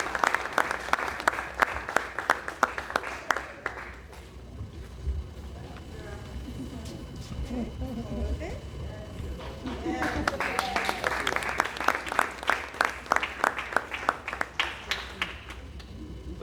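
An audience at a 30th annual Father's Day celebration applauds in two bursts of dense clapping, with a quieter stretch of crowd murmur and a voice in between.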